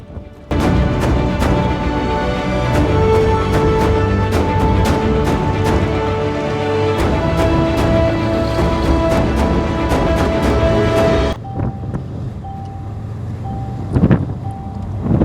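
A rebuilt, previously crashed Mercedes C63S with over 600 hp runs with its bonnet off on its first drive, its loud steady engine drone carrying sharp clicks and pops before dropping suddenly quieter near the end.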